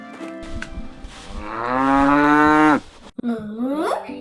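In a cartoon, a cow in a cowshed gives a long, loud, clear moo that swells and then cuts off, followed by a shorter rising call.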